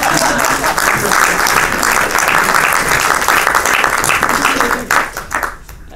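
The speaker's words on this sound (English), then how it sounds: "let's clap" Sustained audience applause fills a lecture hall after a talk on place and exhaustion, a dense steady wash of many hands clapping that tapers off near the end.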